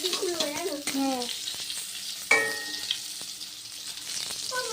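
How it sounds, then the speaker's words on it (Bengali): Pointed gourd and eggplant frying in hot oil, a steady close sizzle with occasional sharp pops and stirring clinks, while voices talk over it. "পটল আর বেগুন একটু ভেজে নিচ্ছি"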